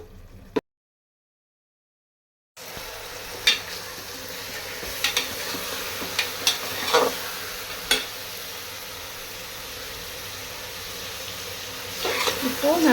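Onions and tomatoes stir and sauté in a pan, giving a steady low sizzle with scraping spoon clatters against the metal after a brief silent gap, close and moderately loud.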